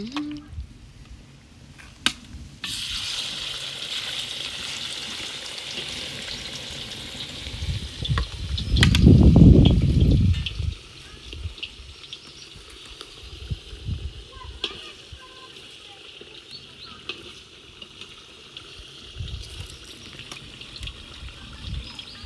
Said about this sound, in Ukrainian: І будемо додавати зараз печіночку.